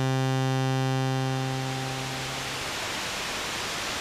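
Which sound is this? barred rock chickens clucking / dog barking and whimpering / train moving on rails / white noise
white noise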